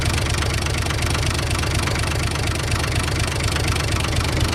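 A Long 460DT diesel tractor idles steadily just after a cold start, its loud, even knocking chug continuous and close throughout with no talk.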